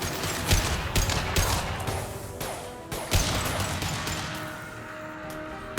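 A concussive shot fired in Mass Effect 2 amid a chaotic video game firefight, with loud overlapping blasts, crashes and bursts of gunfire that keep coming in quick succession over a dense, rumbling battle bed.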